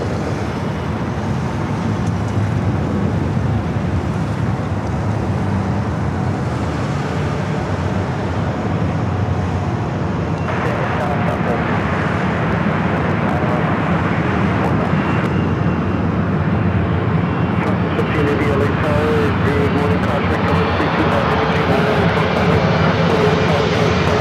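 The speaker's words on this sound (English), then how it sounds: "So now we got the planes flying directly over our head. This American Dreamliner coming from London Heathrow." An American Airlines Boeing Dreamliner arriving from London Heathrow passes low overhead on approach to runway 24 left at Los Angeles International Airport, a loud, steady jet roar that swells and brightens toward the end.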